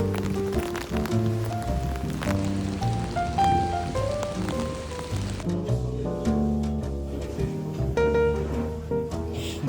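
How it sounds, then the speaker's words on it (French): Rain falls on a city street in Geneva, Switzerland, a soft continuous patter of drops on surfaces mixed under music. "On commence la journée à Genève et on la commence sous la pluie."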